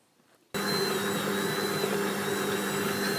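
An electric stand mixer kneading white and wholemeal bread dough switches on abruptly after a short quiet moment, then runs as a loud, steady motor whir with a humming whine and no speech.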